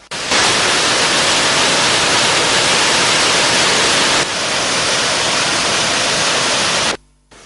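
Water rushes from the opened spill gates of the Vamadilla reservoir in Dambulla, a loud, dense, steady roar of white-noise-like flow that continues without a break and ends abruptly.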